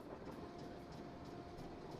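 Steady rumble of a moving train in the Nancy Drew video game, a continuous low rolling drone with faint rhythmic clatter running evenly throughout.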